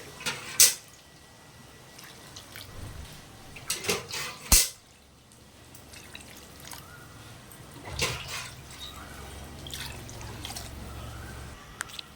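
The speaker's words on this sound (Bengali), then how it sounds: "একটু বেশি করে জল দিয়েছি" Water poured into a pot of fish curry, with a few short splashing pours and clatters early on, then a quieter spell of gentle liquid sloshing and a bubbling swell around the middle.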